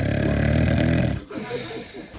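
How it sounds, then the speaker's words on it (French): A woman snores loudly while sleeping, a dense rasping drone filling the first half second stretch before breaking off into softer, irregular breathy noise. "Le masque qu'elle vient de jeter, en fait, c'est pour éviter de ronfler."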